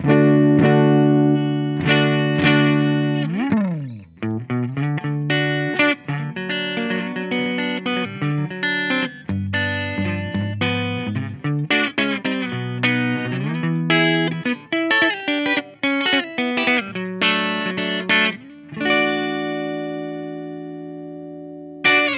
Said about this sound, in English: this will kind of get you that approximation of that great Gretsch sound